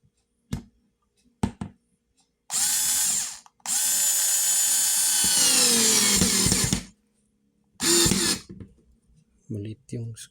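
Ingco cordless screwdriver driving a small screw in bursts, with two long whirring runs and shorter spurts and ratcheting slips, close by, with brief talk between the bursts.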